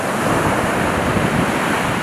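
Sea waves roar against the eroding Odisha coast in a loud, unbroken surf rush, mixed with buffeting wind noise on the microphone and no voices.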